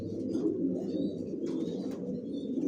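Racing pigeons cooing in a loft, soft low repeated coos close by, with faint chirps above a steady murmur.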